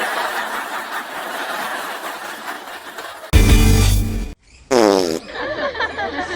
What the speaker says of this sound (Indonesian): Nyet, lu kentut ya?